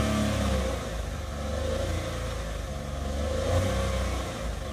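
A car engine held at raised revs during an RPM check, a loud, continuous drone that swells and eases slightly, close by with no voices.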